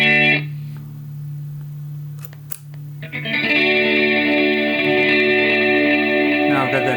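Electric guitar played through a Positive Grid Spark amp with an echo effect, a loud sustained chord ringing with repeating delay tails after a brief pause and a sharp pick attack.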